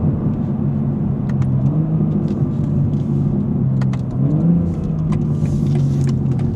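A BMW M4 G82 engine heard from inside the car as it accelerates, a loud, steady rumble with a couple of pitch drops where it upshifts, and no talking.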